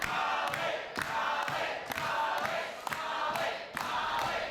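Wrestling crowd at a steel-cage match roaring steadily, with loud surges of cheering that swell and break roughly every second, dense and close throughout.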